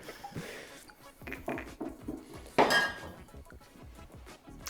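A freshly washed whiskey glass is handled on a table. A sharp, clear clink stands out midway among quieter knocks and handling noises.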